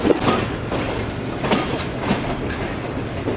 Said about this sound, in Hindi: ये रिलीफ ट्रेन आ गई फैसलाबाद की।